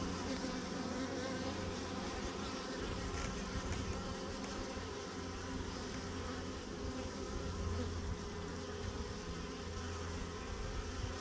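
A swarm of honeybees being rescued drones in a dense continuous buzz, many insects humming at once, steady and close for the whole stretch with no voices.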